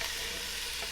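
Carrots and garlic hit a hot pan for a New Orleans beef stew, giving a steady, even sizzle of frying with no talking.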